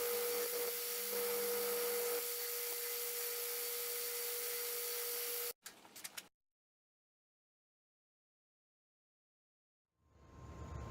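A 60 grit belt sander grinds the hard, sharp edges off forged full tang knife handle scales, a loud steady broadband whine that runs alone, then cuts off abruptly, sputters briefly and falls silent before another machine hum starts up.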